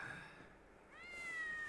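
A cat in the anime Chainsaw Man gives a single clear, drawn-out meow that rises in pitch, heard close and alone over a soft background.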